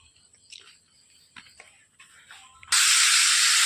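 A tomato curry hits the hot pan after mustard seeds have spluttered, bursting into a loud, steady, close sizzle that drowns out the faint clinks and rustles before it.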